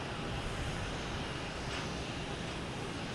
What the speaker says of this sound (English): And we also have a Delta taking off heading to Phoenix.